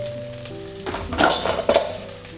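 German sausage sizzles as it fries, a soft hum giving way to brief bursts of crackling sizzle and faint pan clatter, close by with no talking.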